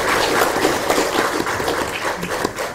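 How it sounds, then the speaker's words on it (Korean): A congregation at a Korean church installation service gives a short round of applause, uneven close clapping with audible individual claps that swells and dips over a few seconds. "우리 한번 박수로 영광을 한번 올려드릴까요?"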